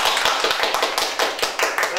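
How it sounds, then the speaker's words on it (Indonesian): Audience clapping in rhythmic, unison beats, roughly four per second, close and fairly loud, as at a talk-show taping. "Tepuk tangan dulu dong."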